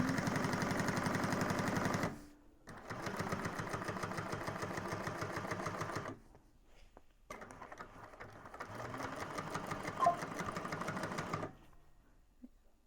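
A sewing machine chain stitches across a convertible bag in three long, fast, rhythmic bursts separated by short pauses, close and clear.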